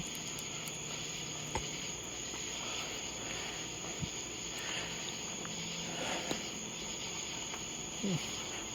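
A fast-trilling cricket outdoors keeps up a faint, continuous high-pitched trill, with a few soft ticks and rustles now and then.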